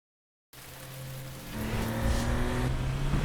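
A car drives on a wet road in rain, with a steady hiss of spray and tyre noise rising after a brief silence, and a continuous engine drone growing louder and closer, no voices.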